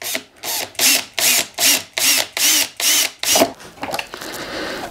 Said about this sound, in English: I get a drill, and I normally get a small drill bit,